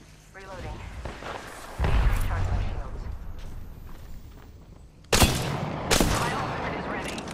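Incoming gunfire in Apex Legends, with bursts of shots and booming impacts rising and falling amid game sounds, plus two sharp loud cracks near the end.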